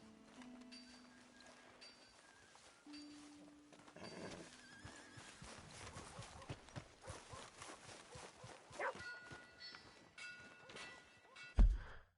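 Horse hooves clip-clop in Red Dead Redemption 2, a steady run of soft thuds under game ambience and music with a horse whinny near the end and a sharp knock close by.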